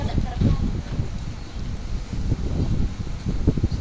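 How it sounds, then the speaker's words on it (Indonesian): Steady wind blowing outdoors buffets the microphone throughout with a continuous low rumble and rustle, loud and close, with no clear talk over it. "Lagi ada angin."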